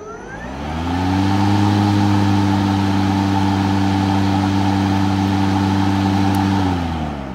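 EGO 56V self-propelled electric lawn mower, Speed IQ Select Cut XP model, running in turbo mode: a steady, loud, close motor whine that spins up, holds evenly for several seconds, then winds down, with no talking.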